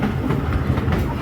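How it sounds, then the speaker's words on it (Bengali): A toy train runs at Nicco Park amusement park in Kolkata, giving a steady, close rumble with a faint clickety-clack rhythm throughout. "আমরা বসে পড়লাম টয় ট্রেনে, এবারে ট্রেন ছেড়ে দেবে।"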